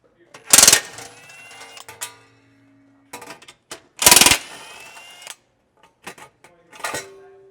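Two 16mm bolts come off a Jeep JK/JL/JT front bumper panel, heard as loud ratcheting wrench bursts with metallic clinks and tool handling between them, close up.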